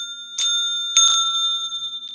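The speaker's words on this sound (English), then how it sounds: "So we're going to do the bell, drawing in positivity." During a tarot reading, a small bell is struck twice, and each sharp, bright ring hangs on in a long shimmering tone that slowly fades. No one speaks.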